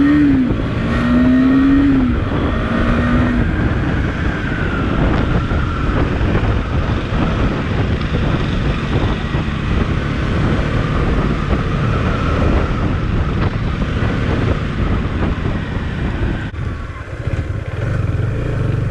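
A Husqvarna Svartpilen 250 motorcycle ridden at full throttle, engine rising and pulling hard close up under heavy wind rush for the whole stretch, with no talking.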